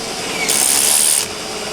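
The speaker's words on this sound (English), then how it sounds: "So we're going to use this, drill a nice perfect circle into our trim piece here." A Black & Decker power drill fitted with a 1 3/4 inch Milwaukee hole saw cuts a circle in a plastic door trim piece, giving a single steady whining grind of about a second, close and fairly loud.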